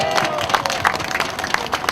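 Dense, steady applause from a crowd at a political rally calling for an election investigation, with many overlapping claps at a fairly close range.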